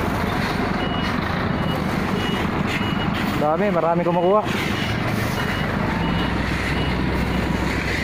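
Reversing beeps from one of three trucks hauling hollow blocks and cement sound steadily over a rumbling engine, with a wavering alarm rising briefly in the middle and someone talking over it.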